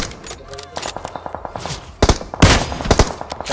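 Gunfire in a shooter video game scrim, a rapid run of evenly spaced automatic shots followed by several louder, heavier bursts, with faint background voices.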